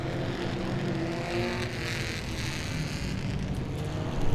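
Super trucks roar around Langley Speedway, a loud steady engine drone from racing trucks with the sound rising near the end as one draws closer.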